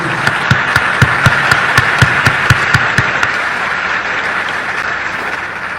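Audience applause at a speech by President Aristide, a crowd clapping in a steady burst with a few sharp, loud claps standing out early on, fading into a sustained wash of clapping.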